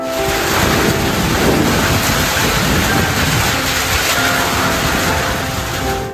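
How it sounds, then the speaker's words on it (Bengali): Heavy rain pouring down in a village of old mud houses in Nabagram, Murshidabad, a loud dense roar of steady downpour with a gusty, rumbling wash. "দেখুন ভীষণ বৃষ্টি শুরু হয়ে গেল।"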